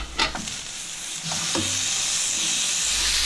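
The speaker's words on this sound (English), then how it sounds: "salt and pepper my turkey, and then I'll be dropping it in here, browning it a little" Wild turkey pieces browning in hot olive oil in a pan: a few stirring clunks, then a loud, steady sizzle and hiss close by.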